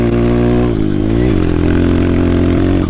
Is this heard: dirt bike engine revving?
yes